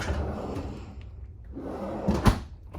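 A refrigerator cooling drawer in a 2021 Sabre 37FLH fifth wheel travel trailer slides and closes with a soft rolling rumble, then a sharp thud, close by and indoors.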